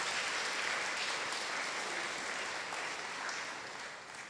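A church congregation applauds during a Marathi sermon gathering, a steady wash of many hands clapping at moderate distance that fades slightly toward the end.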